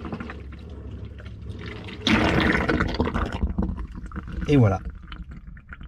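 Water rushing through a camper van's grey water circuit during a rinse after descaling, a strong steady flow with gurgling suction, close and loud, with a person speaking briefly.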